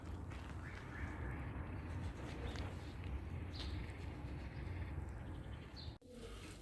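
Pigeons at the Edirnekapı pigeon market in Istanbul, cooing and calling over a steady low outdoor rumble, with brief sharper bird calls rising now and then.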